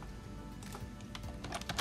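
Quick keystrokes clatter on a computer keyboard, a fast irregular run of soft clicks close by and quiet, with no talk.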